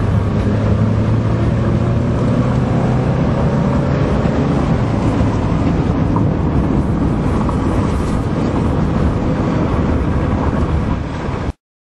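A Honda Accord drives along on a summer day, its steady engine and road rumble filling the interior continuously and loudly, with no talking.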